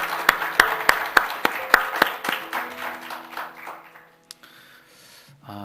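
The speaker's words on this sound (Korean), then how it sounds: "우리 큰 박수로 한번 영광 돌려드리면 좋겠습니다." A church congregation at a Sunday service claps in praise, starting with several loud, evenly spaced claps and then thinning into softer, scattered clapping that fades out.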